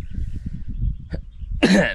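A single harsh cough from someone recovering from flu bursts out near the end, loud and close, after a stretch of quiet low rumble and a faint click.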